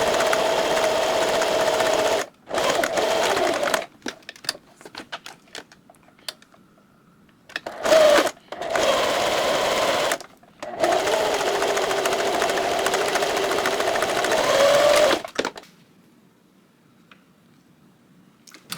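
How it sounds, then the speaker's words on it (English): Sewing machine stitching through the seam allowance of a hat, running in several close bursts of rapid mechanical stitching separated by short pauses and fading to quiet near the end. "You should be sewing through this layer of seam allowance to hold it in place."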